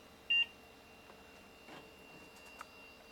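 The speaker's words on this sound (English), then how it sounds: "And it's gonna do a beep." A single short electronic beep from a Gateway E-1400 computer booting up sounds near the start, clear against a quiet room hum, followed by faint scattered clicks.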